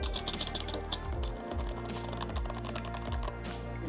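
Rapid typing on a cheap white 60% membrane keyboard, steady clustered keystrokes with a dull, soft clack, close up and fairly quiet over a low background hum.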